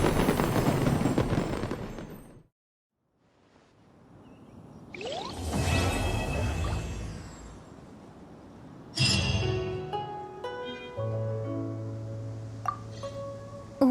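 Fireworks at a video game lantern festival burst in the night, with whooshing launches, sharp bangs and crackling sparkles in separate bursts between quiet gaps.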